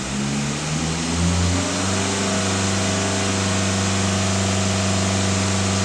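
A Skoda Superb engine is revved during an automated DPF cleaning, rising from a low idle to a steady, loud drone held near 3000 rpm, with a smooth hum sustained for several seconds.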